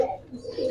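A racer pigeon gives a brief, close, soft coo, low and throaty, lasting under a second.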